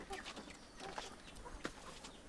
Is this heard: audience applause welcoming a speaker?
no